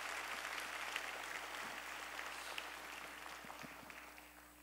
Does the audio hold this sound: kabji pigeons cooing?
no